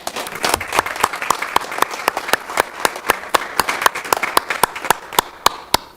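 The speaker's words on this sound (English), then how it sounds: "I think we owe her a round of applause because it is not a light duty." Lively applause from a small group at a city plan and zoning commission meeting, sharp individual claps standing out in an irregular patter that carries steadily through.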